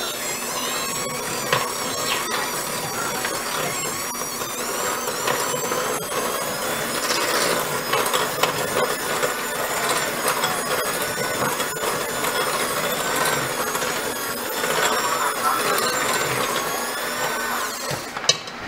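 An electric mixer whirs continuously as peanut butter pie filling and sugar are blended in a bowl, a steady close motor drone with fluctuating pitch as the beaters work, no voices.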